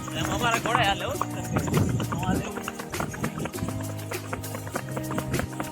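Rhythmic clip-clop of a Kathiyawadi mare's hooves on hard ground during rain, quick and close, mixed with voices and other background noise.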